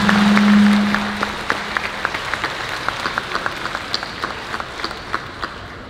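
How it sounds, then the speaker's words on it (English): A convention Q&A audience applauds, a brief hum fading out as scattered claps continue at a moderate level and gradually thin out. "I suppose a little round of applause I think would also probably be fitting."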